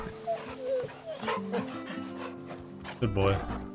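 Torgal, the dog companion in the Final Fantasy XVI video game, being petted, with soft whimpers and yips over game music and speech throughout.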